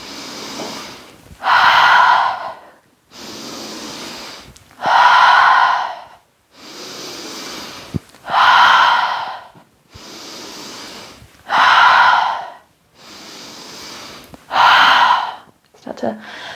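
Slow, deep breaths alternate in a steady cycle during a calming exercise, with soft inhales followed by louder, airy exhales out through the mouth, close to the microphone and repeated about five times.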